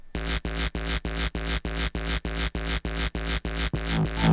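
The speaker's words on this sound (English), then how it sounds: "And then after that we have the mid and the tail, which together are the bass." Repeating low, booming kick drum bass hits, the mid and tail of the kick, pulse in a quick, even rhythm, each one sustained and heavy with a short tail before the next.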